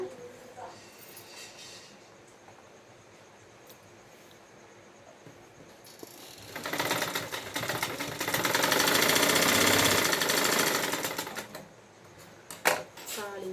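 An electric sewing machine runs steadily through a quarter-inch shoulder seam on a blouse, a loud rapid whirring that builds from quiet handling and lasts several seconds before it stops.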